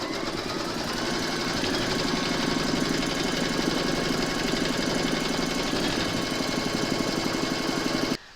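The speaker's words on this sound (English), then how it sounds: "Pop your hoop into your machine and stitch round number 3 to secure it." An embroidery machine stitches a cherry coaster in the hoop, a steady, fast, close mechanical whirr with rapid rhythmic needle pulses that runs continuously and stops abruptly at the end.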